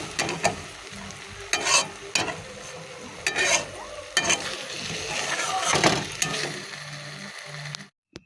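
Fish curry with garlic, ginger, onion and mustard frying in a pan, a spoon scraping and stirring in repeated bursts over a soft steady sizzle, close and fairly quiet.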